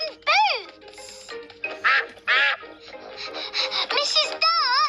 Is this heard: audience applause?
no